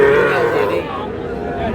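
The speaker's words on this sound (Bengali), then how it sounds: "শাহিওয়ালের ষাঁড়" A Sahiwal bull at a cattle market gives a loud, close, drawn-out moo lasting nearly two seconds, with faint crowd murmur behind it.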